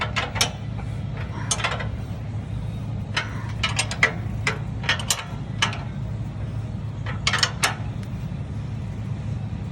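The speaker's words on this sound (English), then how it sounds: "it's the rear nut on the back of the A-arm that you need to tighten" Ratchet wrench tightening the A-arm bolts and nuts during a FOX TRD Pro lift kit install on a 5th-gen Toyota 4Runner, bursts of quick clicking strokes separated by pauses over a low steady background hum.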